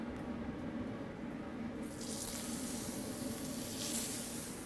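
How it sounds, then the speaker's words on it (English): Thick slices of ripe beefsteak tomato sizzle on a hot grill, giving a steady, close hiss of frying with brief brighter spurts of spatter partway through. "I'm gonna throw it on the grill just for a sec"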